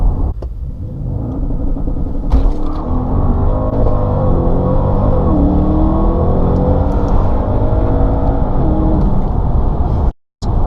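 A 2017 Porsche Panamera accelerates hard in third gear from about 48 mph, its engine roaring loud and close with a rising pitch before a brief cut near the end.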